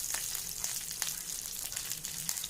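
Curry leaves, green chili, mustard seeds and cumin crackle and sizzle in hot oil, a constant fizzing hiss with small sharp pops scattered throughout, fairly quiet and with no voices.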